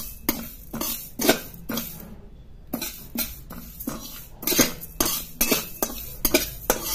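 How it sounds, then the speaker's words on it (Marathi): A spoon stirs flaxseeds dry-roasting in a hot kadhai, giving repeated sharp scraping clinks in an uneven rhythm, close up, with the soft rattle of seeds between strokes. "जवस हे थोडे परतून घ्यायचे"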